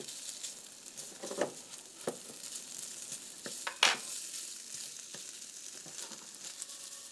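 Asparagus sizzling in butter in a pan with Parmesan cheese, a steady frying crackle broken by occasional soft scrapes and clicks of stirring, fairly close and without talk.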